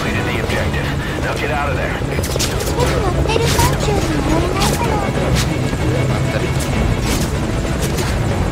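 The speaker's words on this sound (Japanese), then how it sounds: "あのヘリで大丈夫？" A helicopter in the video game Metal Gear Solid V: Ground Zeroes thrums steadily with rotor chop, mixed with bursts of gunfire and game effects, while a person talks over it.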